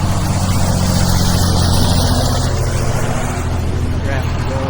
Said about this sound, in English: Traffic going by.